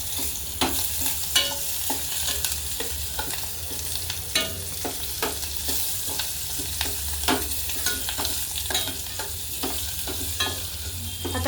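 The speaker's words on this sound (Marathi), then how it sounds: "आलं घातलं की यात ही आपली जी मिरेपूड आहे ते घालायची आणि कांदा घालायचा आणि हे छान परतून घ्यायचं" Onion and ground black pepper sautéing in a pan after ginger goes in, a steady close sizzle broken by regular scraping and clinking stirs throughout, with no talking.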